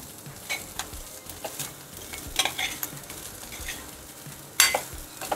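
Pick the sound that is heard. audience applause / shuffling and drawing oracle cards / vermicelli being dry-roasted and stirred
vermicelli being dry-roasted and stirred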